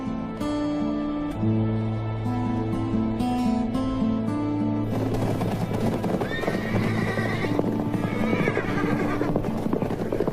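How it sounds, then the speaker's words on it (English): Horses walk and neigh in the desert, steady clip-clop hoofbeats running through the whole stretch, with clear whinnies rising partway through, close and prominent against faint background music. "they leave the horses in the shade"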